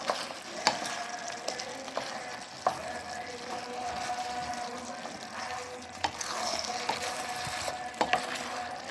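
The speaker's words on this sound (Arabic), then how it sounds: "اقلبها بقى تقليبه كده وايه واغطي عليها عشان ايه تكمل سواها" Kebab meat being stirred in a cooking pot, with scraping and clanking of a utensil against metal at irregular intervals over a soft continuous sizzle, close by and with no talk.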